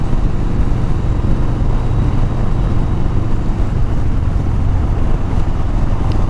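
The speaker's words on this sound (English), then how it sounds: "when you crack the throttle, get yourself up to the highway speeds" A Yamaha Warrior 1700cc motorcycle accelerates hard up to highway speed, a steady loud engine roar mixed with heavy wind rush across the whole stretch, with no clear rise in pitch.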